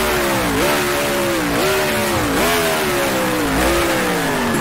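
Revving 1966 Formula One car engine in the racing game Grand Prix Legends, a loud, steady, buzzy mechanical drone whose pitch climbs and dips repeatedly through gear changes and lifts, close and continuous with no talk.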